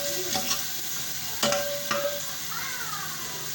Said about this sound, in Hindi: इन सबको इतना भूनना है कि अच्छी तरह टमाटर इस पर गल जाए